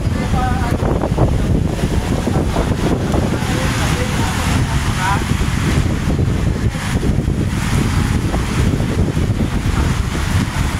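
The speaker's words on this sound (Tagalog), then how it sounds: "sobrang lakas ng hangin. May kasamang malakas na ulan dito guys sa may BGC." Loud, steady roar of strong wind buffeting the microphone during a storm in BGC, with a rushing wash of heavy rain underneath and a voice speaking faintly at times.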